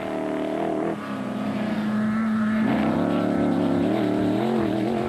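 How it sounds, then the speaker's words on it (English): A blue Zarko race car at the 2007 Toyota Dealer 400 off-road rally sweeps past with a loud, rising engine roar and shifting pitch, close by and alone. "The blue Silwald Transport Zarko came flying by next."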